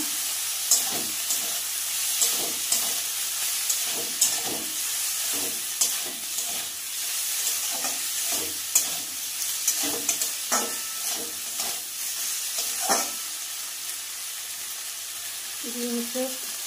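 Shrimp and lightly fried fish sizzle in a pan, a steady hiss broken by repeated scraping and clacking of a spatula stirring at an uneven pace, close and fairly loud, with a brief voice near the end.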